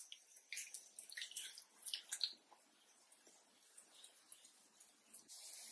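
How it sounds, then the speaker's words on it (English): Water splashes softly as someone washes their face during a nighttime skincare routine; quiet, irregular wet splashes and drips come up close with no talking. "And I'm just gonna wash my face."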